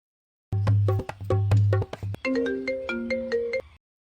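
A phone ringtone plays a repeating melodic tune of bright electronic tones for a few seconds, close and clear, with no talking.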